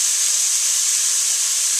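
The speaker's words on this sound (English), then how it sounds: "I'm going to add the bay leaf and the garlic and saute about 30 more minutes, or 30 more seconds" Garlic and a bay leaf sauté with vegetables in a pan for a beef pot roast, giving a steady, close, bright sizzling hiss that runs unbroken and alone.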